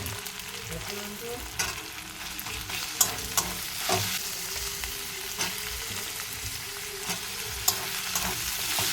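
Chopped onion with ginger paste and garlic paste sizzles steadily in a hot pan, a constant close frying hiss broken by occasional stirring clicks, with no talking.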